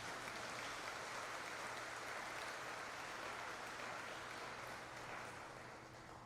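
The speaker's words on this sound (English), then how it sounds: "So give them a round of applause, please." Awards ceremony audience applauding, a faint, steady wash of clapping that continues unbroken and tapers slightly at the end, heard from a distance.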